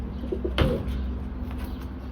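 Pigeons coo close by in a couple of short soft bursts, followed by a brief flutter or knock, against a steady low background hum.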